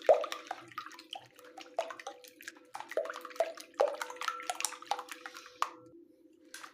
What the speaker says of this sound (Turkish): Diğer malzemelerimizi eklemeden önce şöyle bir yumurtalarımızı Çırpıyoruz.